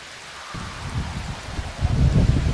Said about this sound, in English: Then suddenly it storms, hail and freezing rain.